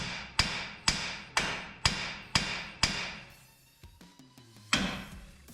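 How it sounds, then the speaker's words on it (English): A hammer whacks a steering part on a 4th-generation Cummins truck six times in a steady rhythm, each sharp clang ringing out, then a pause with a clunk and a final strike. "just whack it with a hammer a few times"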